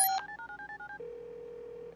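Cell phone dialing tones play as a quick run of short, even beeps, then a steady ringback tone holds for about a second, clear and alone in a quiet room.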